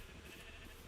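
A Minecraft sheep gives a short bleat over a steady hiss of game background noise.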